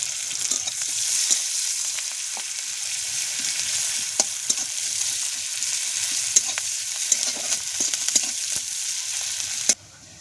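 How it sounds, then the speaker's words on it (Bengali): Chili, onion and garlic paste sizzles steadily as it is stirred and fried in a wok for a spicy fish curry, with small scraping clicks from the stirring, then cuts off abruptly near the end. "দিয়ে দেবো মাছের ঝালের লঙ্কা, পেঁয়াজ, রসুন বাটাটা সব দিয়ে দেবো কড়ায়।"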